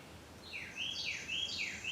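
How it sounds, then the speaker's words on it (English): Birds chirp and sing outdoors with a run of repeated high, sweeping calls that come in rising and falling phrases, fairly close and clear over a quiet background. "All the birds seem like they come in closer and they're all active and chirping, singing."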